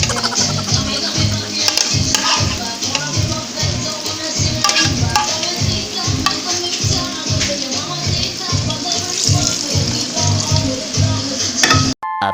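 Fishball and kikiam sizzle steadily in hot oil while being stirred, a loud continuous frying hiss with a rhythmic scraping pulse.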